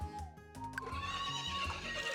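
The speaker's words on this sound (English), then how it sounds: "The small burro." A small burro brays in the Friends of Mineral Town farming game, a loud harmonic whinny over steady game music, lasting about two seconds.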